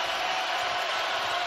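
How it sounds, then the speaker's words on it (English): Steady, dense roar of a basketball arena crowd cheering at a college game between San Diego State and Utah State, a continuous broadband wash with no distinct breaks. "Here comes the crowd again."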